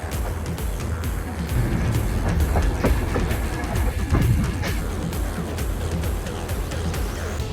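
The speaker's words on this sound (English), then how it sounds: "got to experience a ride on the beautiful Kuranda Scenic Railway" A Kuranda Scenic Railway train in North Queensland, Australia rumbles along with steady clickety-clack from the wheels on the rails, a loud continuous interior ride noise.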